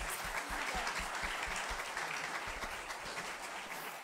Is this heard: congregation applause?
yes